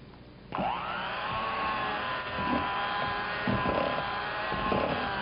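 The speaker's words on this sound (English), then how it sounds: "Use the mixer." An electric hand mixer switches on and runs steadily, whirring and whining as it mixes ingredients in a bowl during a cooking class, its pitch wavering slightly as it works, close and continuous.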